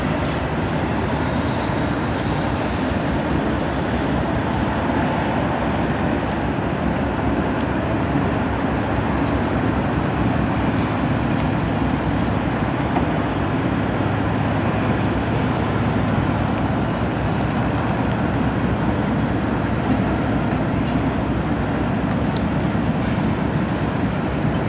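Freight train led by 1993 GE C40-8W locomotive 7347 rolling past, a steady loud continuous rumble and clatter of railcars that carries on without a break.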